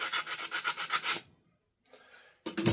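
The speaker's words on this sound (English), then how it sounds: "we're just going to take our sandpaper here and just kind of go in there and clean that up real quick" Sandpaper rubbing inside a cut manual safety slot in a Sig Sauer P320 polymer grip module, a close rapid rhythmic rasping of about eight strokes, a pause, then a fainter scrape and a loud burst of rubbing.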